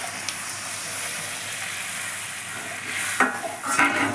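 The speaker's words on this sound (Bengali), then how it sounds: "এবার আমি সিদ্ধ করা ডালটা ঢেলে দিচ্ছি।" Boiled moong dal poured into a sizzling spice paste in a pan for fish-head moong dal, a steady frying hiss that swells into a wetter splashing burst and stirring near the end, close, no talking.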